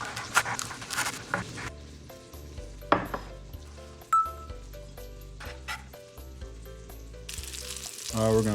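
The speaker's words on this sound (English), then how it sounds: "we just threw the meat in and we're gonna brown it" Opossum meat browning in an Instant Pot, a steady sizzle with scattered clanks of utensils against the pot, fairly close and continuous throughout.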